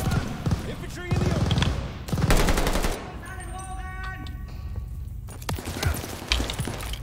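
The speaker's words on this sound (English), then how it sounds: "Sights from the hail of gunfire that's going on outside." Machine gun fire from the video game Call of Duty Vanguard, heard as rapid bursts of automatic shots in a few loud volleys with quieter gaps between them.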